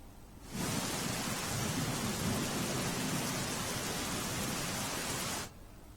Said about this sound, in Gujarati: આજે પશ્ચિમ વિસ્તાર જે છે ત્યાં ભારે વરસાદ પડી રહ્યો છે